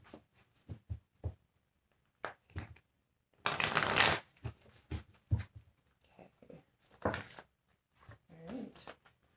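A deck of cards shuffled for a reading: quick riffles and taps between spoken phrases, then a dense burst of riffling in the middle, fairly close, with a voice talking around it.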